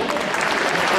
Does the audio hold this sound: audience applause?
yes